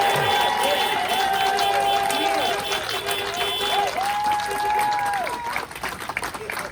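A crowd at a get-out-the-vote political rally cheers and claps loudly and steadily, with whistles rising over the noise before it thins near the end.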